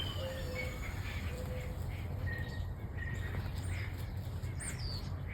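Several birds chirp and squawk around a backyard feeder, short tweets scattered over a constant faint outdoor hiss, fairly quiet and at mid-distance.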